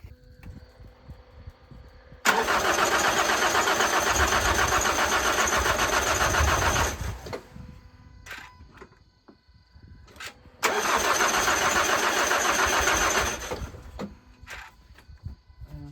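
A rebuilt Nissan YD25 diesel engine cranks loudly for about five seconds, catches briefly and dies, then after a pause cranks again for several seconds before stopping, close up with scattered clanks between attempts.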